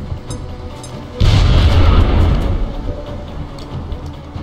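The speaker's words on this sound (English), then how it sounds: "Throwing grenade!" A grenade goes off in a turn-based video game: after a quiet stretch comes a sudden deep blast, then a loud rumbling roar that slowly fades, with no voices.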